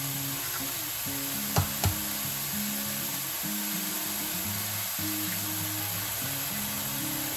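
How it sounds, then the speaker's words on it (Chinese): Chopped mushrooms stir-frying in a pan for a breakfast egg dish, a continuous dense sizzle with a couple of brief utensil clicks early on, with a steady hum in the background. "首先將切碎咗嘅蘑菇炒香咗。"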